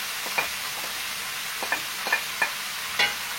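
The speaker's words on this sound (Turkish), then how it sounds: "Domates ve biber ekliyoruz." Okra sizzles softly in a pan with tomatoes and peppers while being stirred, with a steady frying hiss and a few light scraping clinks of the spoon, close and alone with no talk.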